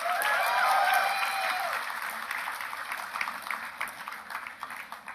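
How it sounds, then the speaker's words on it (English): Convocation audience applauding Dean's List graduates, a steady wash of clapping from a large crowd that swells early and then settles, with a voice speaking over the start. "Please applaud for our Dean's Listers, Ghoshal Shubham."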